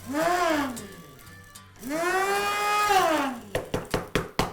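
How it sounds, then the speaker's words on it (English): A small electric coffee grinder grinding pepper whirs in two bursts, its motor pitch climbing and dropping each time, followed by a series of sharp knocks. "I just used my wife's coffee grinder"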